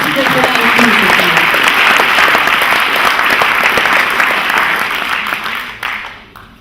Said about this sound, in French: On applaudit Sophie Swatton qui enseigne à l'Université de Lausanne.